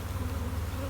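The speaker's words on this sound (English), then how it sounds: "I think I see a hive that looks like it's swarming." A swarming honey bee colony drones at the hive in a busy bee yard, a dense continuous buzz of many wings, loud and close with no talking.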